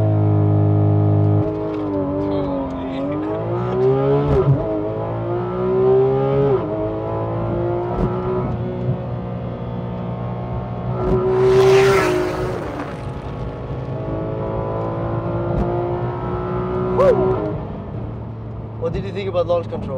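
A Porsche sports car launches under launch control, the engine pitch climbing through repeated rising sweeps with shifts in between, heard from inside the car with people talking over it.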